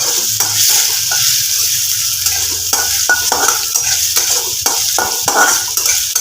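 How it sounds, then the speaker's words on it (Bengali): Cumin seeds and dried chillies fry in hot oil in a pan with potatoes, a continuous loud sizzle broken by repeated scraping stirs and light clinks of a utensil against the pan, with no talk. "জিরে আর শুকনো লঙ্কা ফোড়নে দিয়ে দেবো আলুগুলো আমি আর কড়া থেকে তুলব না"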